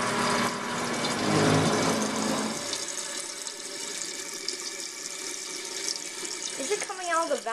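Water running into a 2000 Saniflo toilet tank, a steady broadband hiss and trickle that is loudest in the first few seconds and then continues more softly through to the end.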